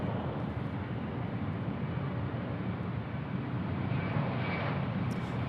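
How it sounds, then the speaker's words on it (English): A Philippine Airlines airliner comes in to land on the left runway at Sydney Airport, a steady broad roar of jet engines that holds continuously and swells slightly toward the end, heard from a distance with no talk. "Philippine Airlines. Beautiful. Bringing it in. Runway left."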